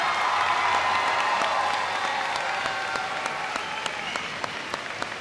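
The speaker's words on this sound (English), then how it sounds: "huge round of applause" A large crowd applauds the graduating class of 2023 at a high school senior convocation, dense sustained clapping that starts loud and slowly thins, with scattered cheers.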